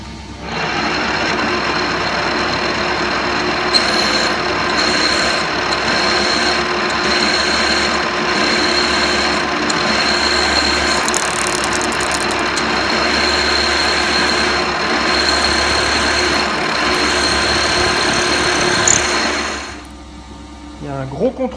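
A drill bores a 6.5 mm hole in an aluminium disc, giving a loud, steady motor whine with the bit grinding through metal for about twenty seconds before it winds down and stops.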